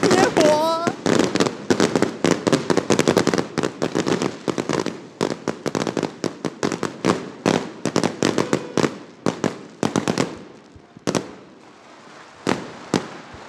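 Fireworks burst in rapid, crackling volleys at an outdoor Dajia Mazu Lantern Festival gala in 2017, loud and close, dense at first and then thinning to separate sharp bangs, with a crowd and voices faint beneath.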